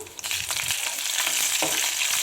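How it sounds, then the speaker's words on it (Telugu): A spice tempering with dried red chillies sizzles in hot oil in a pan for an Andhra bottle gourd stew, with a steady crackle broken by the scrape of a ladle stirring. "అంతా కలిసేలాగా ఒకసారి బాగా గరిటతో కదుపుకుందాం"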